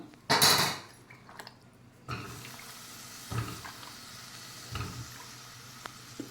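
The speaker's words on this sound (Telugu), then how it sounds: "ముందుగా వంకాయలు వేసుకుందాం." Three brinjals dropped into a pan of fried tomatoes and onions, a loud clattering splash at the start, then a faint sizzle with occasional soft clinks of utensils.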